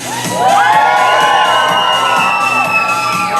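A crowd of spectators, children among them, cheers and whoops loudly at a dog show at Kentucky Kingdom in Louisville, with overlapping shouts sustained through the moment.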